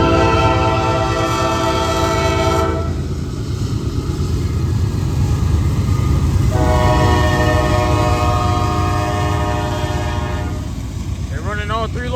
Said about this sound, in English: They're running all 3 locomotives.